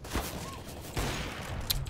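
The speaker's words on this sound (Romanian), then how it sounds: "Am tras ca dracu acolo." Gunfire in CS:GO during a competitive round: a few scattered shots and bursts of varying loudness, with one sharp crack near the end, over steady game noise and no talk.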